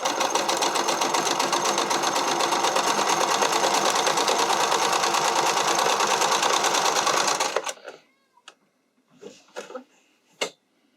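A sewing machine runs steadily for about seven seconds, zig-zag stitching a hem on spandex for a figure skating or dance costume, then stops, followed by a few light clicks and handling taps.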